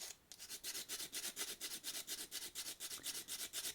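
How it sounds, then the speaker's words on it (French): Small hand files rasping against a shrink plastic keychain, a steady back-and-forth stroking of about a dozen even, close, hissy passes with no talk. "en limer un petit peu et le rendre plus droit"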